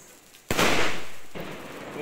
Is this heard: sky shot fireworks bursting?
yes